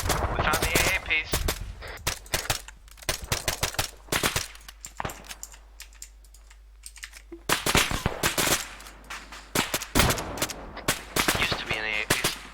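Suppressed gunfire rattles in a military video game, with bursts of sharp muffled shots in clusters and a lull midway, close and loud, while radio-style voices talk briefly between the volleys.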